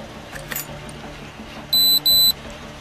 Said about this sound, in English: Using a detector, they hear a beep indicating the presence of a weapon.